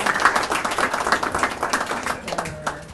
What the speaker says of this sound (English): let's give a nice round of applause to Ken Grabinski